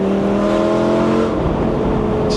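Lamborghini Gallardo Spider engine revving hard under acceleration, a loud continuous roar with rising and shifting pitch, close and steady throughout.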